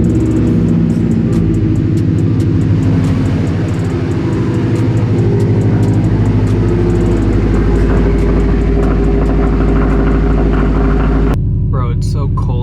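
A Honda S2000 driving on a cold day, its engine a loud, steady low rumble with road noise filling the cabin, and a voice talking over it.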